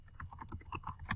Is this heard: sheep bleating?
no